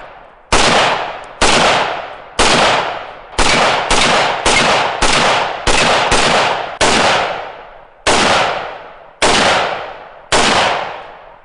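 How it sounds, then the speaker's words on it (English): A 5.45 carbine firing Russian military surplus corrosive ammunition, loud sharp individual shots in a fast irregular string of about thirteen rounds, each with a short ringing decay. "we are shooting Russian military surplus corrosive ammo"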